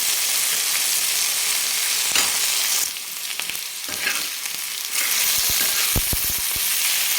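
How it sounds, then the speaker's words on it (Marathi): Potato slices sizzle and crackle steadily in hot oil in a pan, with a loud continuous fry broken by a few sharp spattering pops and stirring clatters near the end. "आपल्याला तेलामध्ये असं भाजून घ्यायचे"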